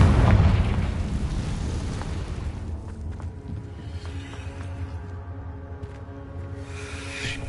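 A Confringo explosive spell from Hogwarts Legacy goes off in a loud blast at the start, then fades into a long rumbling decay with a low, steady game ambience.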